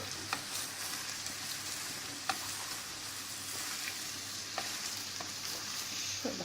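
A spoon stirs a cauliflower dish in a pan with a soft, steady sizzle underneath. Faint scrapes and a few light clicks of the utensil recur while the cooking hums quietly.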